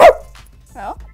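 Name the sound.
voice imitating a dog barking, Pluto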